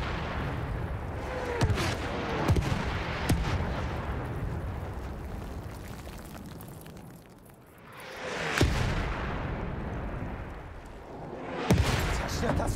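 Enemy artillery barrage in the video game Battlefield 1, with repeated heavy booming blasts and sharp impacts that recur irregularly over a constant roar of battlefield rumble. It stays loud and dense, swelling and easing, with no clear speech.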